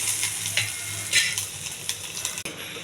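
Curry leaves, ajwain, dried red chillies and garlic frying quickly in a hot pan, a steady close sizzle with brief stirring scrapes and crackling bursts throughout.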